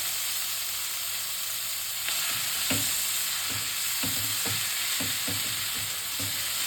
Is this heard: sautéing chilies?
yes